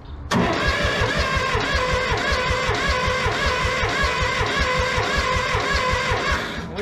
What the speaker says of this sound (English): let's see if we can get a better crank and maybe a fire.